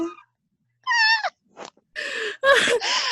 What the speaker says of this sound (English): This cat is so disappointed in us right now.